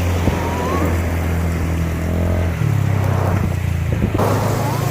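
A boat engine drones steadily at Mandvi beach in Kutch, a low continuous hum that shifts pitch partway through, with wind and water noise around it and no talking.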